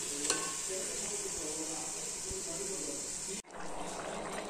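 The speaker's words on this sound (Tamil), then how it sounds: "இப்போ நம்ம இறா போட்டு வதக்கிக்கலாம்" Prawns sizzle steadily in a hot pan while being sautéed with chilli powder for prawn biryani, a dense, continuous hiss broken by a brief cut partway through.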